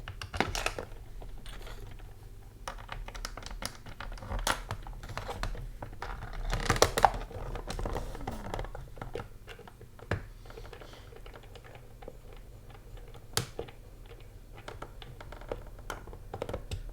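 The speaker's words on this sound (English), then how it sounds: "So let's start throwing a couple of these screws in. We're going to start tightening those down." Screws being driven and tightened into a PlayStation 2 console casing during a mod build: scattered small clicks, taps and scraping of a screwdriver and loose hardware, close up, irregular and fairly quiet.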